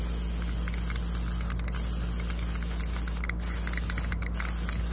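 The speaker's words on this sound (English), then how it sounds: "Spray it really quick with a spray gun." Spray gun spraying paint onto a tumbler, a steady, close hiss of compressed air running throughout with a low hum beneath and a few brief breaks in the spray.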